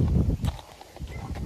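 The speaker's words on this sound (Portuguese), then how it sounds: "Não vamos assustar o Bingo, senão daqui a pouco ele vai pular de cima do cavalo." A horse walks along with hooves clip-clopping close by in a few soft, uneven steps.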